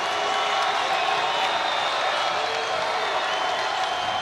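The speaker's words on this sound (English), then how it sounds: "The crowd getting into it here at Watsco." Basketball crowd at Watsco Center in Miami during an NC State at Miami Hurricanes game, a steady roar of cheering and clapping filling the arena, with commentary voices mixed underneath.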